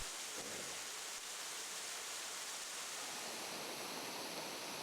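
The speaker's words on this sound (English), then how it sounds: "Falling water." A waterfall in the Great Smoky Mountains pours steadily, a dense, even rush of falling water that holds at a constant close level throughout with no voices.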